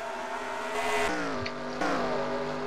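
NASCAR Sprint Cup race cars roaring through the carousel turn at Watkins Glen, a loud continuous engine drone with rising and shifting pitch as cars pass in succession.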